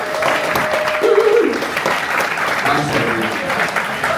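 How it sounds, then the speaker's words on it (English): Audience applause at a live event, a steady wash of clapping from a crowd holding at a fairly even level for the whole stretch, with a faint tone and murmur beneath it. "Big round of applause for Austin."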